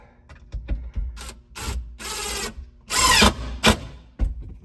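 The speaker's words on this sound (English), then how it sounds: "I believe there are 5 holes to drill into." A power drill whirs in several short bursts while drilling screw holes in an RV basement slide, with bumps and handling noises between them; one longer, louder burst near the end.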